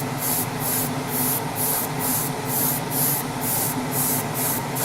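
An aerosol can sprays primer onto model motorcycle fairings for a 1:12 Honda RC211V in quick, evenly spaced bursts, about a dozen short hissing puffs in a regular rhythm, close and clear over a low background hum.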